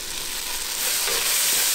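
Onions sizzle and fry in a pan, a steady close crackling hiss that swells slightly toward the end.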